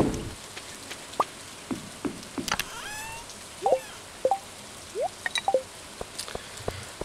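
Rain in the farming game Stardew Valley falls as a soft steady patter, with scattered droplet plinks and drips popping out irregularly over a quiet hiss.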